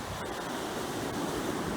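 Strong northerly wind buffets the microphone while North Sea waves wash steadily onto a sandy Norfolk beach at Hopton-on-Sea, a loud continuous roar of surf and gusts with no voices.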